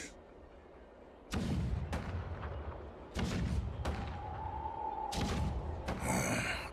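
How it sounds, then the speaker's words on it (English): Heavy cannon booms from a Honkai Star Rail battle scene land in a series of deep thuds with sharp attacks, several in a row a second or so apart, one ringing tone between them, fairly quiet overall. "The rumble of the cannons."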